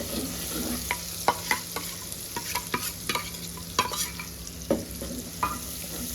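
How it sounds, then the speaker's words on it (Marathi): Spoon stirring homemade masala with garlic in a cooking pot over a steady sizzle of frying, with repeated scraping strokes and soft clinks against the pot, close and continuous with no talk. "हलवून घेऊया."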